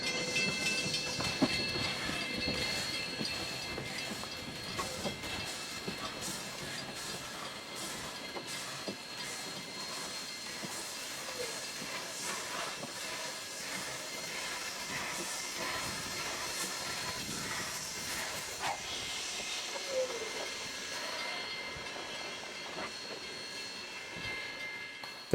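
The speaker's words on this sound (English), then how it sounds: "110 couples up to the train cars on the main track and moves them to the side track." Steam locomotive No. 110 couples to train cars and moves them from the main track to a side track, a steady mechanical rumble with persistent steam hiss and faint rail clatter throughout, no voices.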